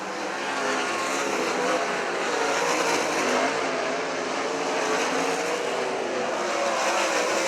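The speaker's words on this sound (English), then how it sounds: "Jędrzejczyk trying to get to the bottom of the racetrack in turns 1 and 2" Great Lakes Super Sprints sprint cars roar continuously around the dirt track at Waynesfield Raceway Park, a dense, loud, unbroken engine wash with no talk.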